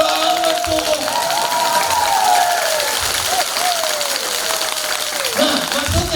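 Sustained applause from a large audience at a talk in Jakarta fills the clip, with a steady wash of clapping and occasional cheers rising over a continuous crowd roar.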